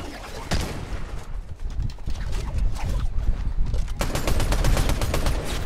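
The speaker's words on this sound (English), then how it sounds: "Oh, I'm getting sniped." Video game gunfire with sniper shots, rapid bursts of automatic fire and sharp cracks building in density, loud and continuous throughout.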